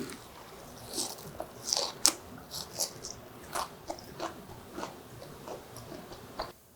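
Crunchy bites and chewing of a pan-fried enoki mushroom pancake made without egg wash, a string of close, irregular crisp crunches spread over several seconds with no talk.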